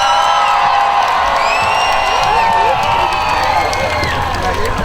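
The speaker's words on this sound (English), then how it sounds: "A little half-hearted cheer." An outdoor show audience cheers for Wisconsin, a loud, dense crowd roar of whoops, shouts and high cheering voices that holds steady throughout.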